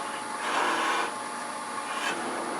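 A box scraper cuts into wood on a lathe, making a steady close scraping hiss with two brief louder surges of rasping contact, over the lathe's constant hum.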